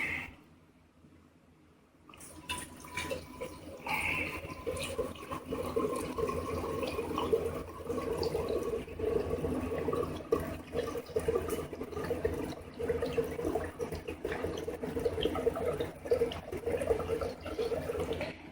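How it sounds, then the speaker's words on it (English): Apple juice pours steadily in a continuous, gentle stream after a brief quiet start, with a soft splashing fill that runs on for many seconds. "now we are going to pour in the apple juice"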